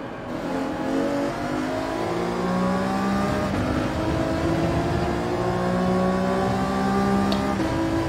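A race car engine revs and climbs through gears in Gran Turismo 7, loud and continuous with rising and falling pitch, no voice present.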